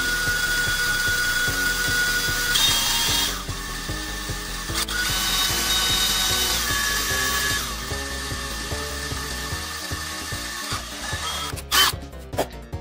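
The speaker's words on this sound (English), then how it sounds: "when you drill into the Mr. Potato Head, you want to start with the smallest bit possible" A power drill whines in several bursts, stopping and restarting, with grinding and clicking as a small bit bites into a plastic Mr. Potato Head toy, loud and close.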